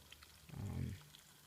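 Water pours into a 2-liter bag at a trail water source on a forest hiking trail, a brief low gurgling burst that swells and fades over about half a second, fairly faint against quiet outdoor background.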